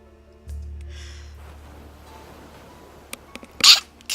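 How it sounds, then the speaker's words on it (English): One sharp, loud sneeze bursts out near the end after a quiet stretch with a low hum and small rustles. "I had to sneeze."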